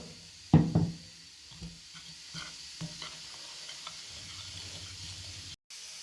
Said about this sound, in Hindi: इन दोनों चीज़ों को हम अच्छे से मिक्स कर लेंगे।